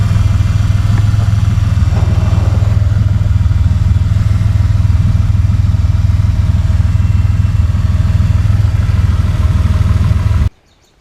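A Volkswagen Vanagon Syncro Westfalia with a swapped-in Subaru SVX engine runs steadily at idle, a loud, continuous low rumble close by that holds for about ten seconds before cutting off abruptly.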